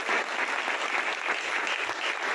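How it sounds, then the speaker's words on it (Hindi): A church congregation claps loudly for Jesus Christ during a Hindi-language sermon, a continuous, even wash of applause that holds steady throughout the short stretch. "एक बार प्रभु यीशु मसीह के लिए जोरदार ताली बजाएं।"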